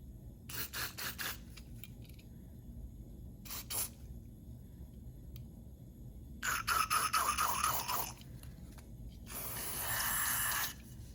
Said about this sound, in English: spray out the carburetor